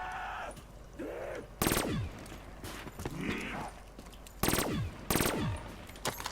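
Pack-a-Punched weapon in Black Ops 3 zombies on The Giant map firing in bursts, several loud, sharp shot clusters spaced irregularly across the stretch, with quieter game effects and whooshing tones between them; no talking.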